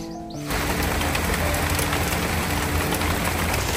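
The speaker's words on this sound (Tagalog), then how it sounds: "umuulan na naman" Rain begins suddenly and keeps falling on a Virginia countryside homestead, a loud, dense, steady hiss of drops hitting surfaces close by, with no talk over it.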